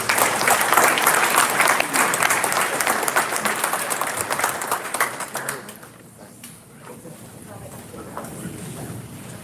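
Audience applause at a senior awards banquet, a full burst of clapping that holds strongly for several seconds, then drops away to scattered claps and room noise.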